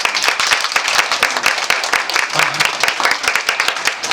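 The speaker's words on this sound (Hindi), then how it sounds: "ताली बजाए जोर से" A church congregation claps loudly and vigorously, many hands striking in quick, slightly uneven bursts that sound close and full, keeping an energetic pulse throughout with no speech on top.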